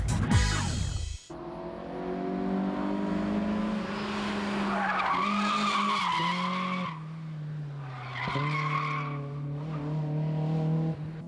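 A Toyota AE86 Corolla Levin/Trueno is drifting at high speed through the first and second corners of a circuit. The engine wails steadily as the car slides, with sustained tire squeal and skidding, loud and close throughout.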